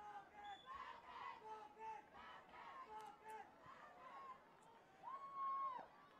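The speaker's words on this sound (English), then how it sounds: "And the visiting crowd getting into it here." A visiting crowd at a high school soccer game between Wayne Valley and Manchester cheers and chants from a distance in rhythmic bursts, faint overall, with one louder shout near the end.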